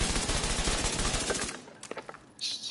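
Rapid automatic gunfire at a shooting range in The Division 2, a dense loud burst of shots for about a second and a half, then a few scattered single shots and a brief sharp hiss.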